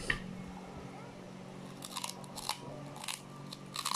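Crisp crunching and biting on crunchy chicharon (fried pork rinds) eaten close to the microphone for ASMR, with several sharp crunch bursts in the second half over a steady low background hum.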